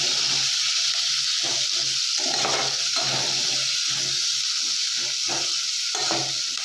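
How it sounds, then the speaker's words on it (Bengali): Onions frying in hot oil until browned give a steady, close crackling hiss, with intermittent scraping and stirring sounds breaking through. "ওই পেঁয়াজগুলোকে এবার ভালো করে ভেজে নিতে হবে"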